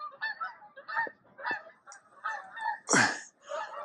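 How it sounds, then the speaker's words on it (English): A flock of geese honking at a Maryland goose hunting campsite, a run of loud, close calls arriving in irregular bursts, with one especially strong honk near the end and no talk. "Get to hear geese all night."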